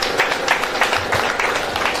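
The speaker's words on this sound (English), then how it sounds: "A round of applause for her." A seated audience at a golden jubilee celebration applauds a woman, steady crowd clapping at moderate loudness that keeps an even texture for a couple of seconds.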